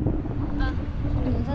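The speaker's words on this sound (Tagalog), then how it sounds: "Lakas ang hangin." Strong wind buffets the microphone at sea aboard a small boat, a steady loud rumbling roar that fills the whole clip, with a voice speaking over it.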